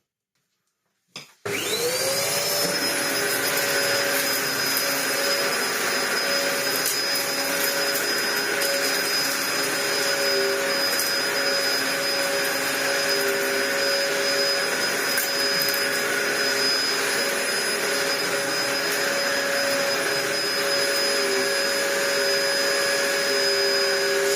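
A repaired old Dyson DC01 vacuum cleaner starts with a click and whines up to a loud, steady motor roar that runs unbroken for over twenty seconds.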